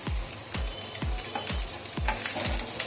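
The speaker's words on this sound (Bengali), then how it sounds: "তেলটা গরম হয়ে গেছে, এবার আমি পেঁয়াজ কুচানো দিয়ে দিলাম।" Chopped onion sizzles in hot oil in a pan for momo filling, a steady close frying hiss broken by about six regular stirring scrapes, with no one talking.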